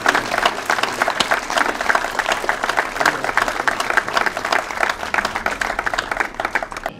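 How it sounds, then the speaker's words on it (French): Sustained applause from an audience at an art event inauguration, many hands clapping densely and evenly for several seconds, fairly close. "Et je demande que vous les applaudissiez."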